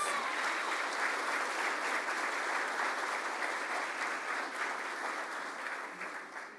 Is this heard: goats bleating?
no